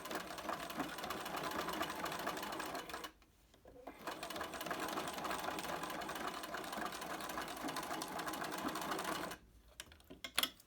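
Close, loud, continuous hum of a sewing machine top stitching a fabric mask, running in two long bursts separated by a brief pause and stopping abruptly near the end.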